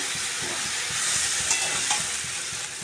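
Steady loud sizzling from a pan of squash being sautéed as fried potatoes are added, with a broad continuous hiss and a few soft stirring scrapes, no voices.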